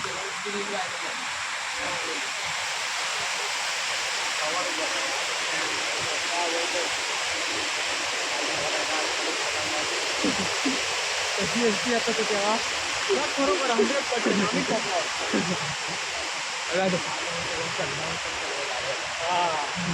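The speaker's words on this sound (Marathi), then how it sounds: "मित्रांनो बघा धबधबा बघा, एक नंबर आहे" Water rushes at Vyaghreshwar waterfall near Manche in Konkan, a dense, steady roar that fills the whole scene, with people talking and calling faintly underneath it.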